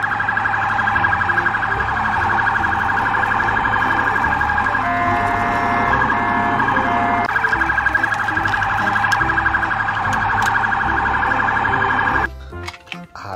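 Black toy police car siren sounding loud and steady for about twelve seconds, a continuous electronic wail that stops abruptly, followed by a few brief clicks.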